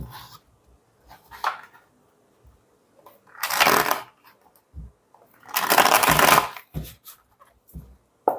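Tarot cards are shuffled in a few loud riffling bursts up close, separated by quiet pauses with soft handling taps and no talking.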